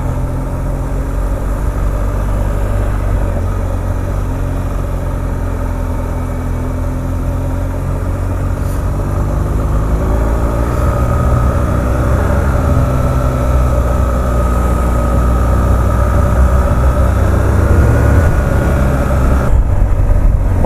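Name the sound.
GS motorcycle riding on country roads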